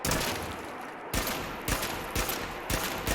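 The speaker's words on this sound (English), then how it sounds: "take a nice aim shot, semi-auto fire" A semi-automatic Magnum Rifle mod in Fallout 4 fires four evenly spaced, sharp, loud single shots in a steady rhythm with no voices.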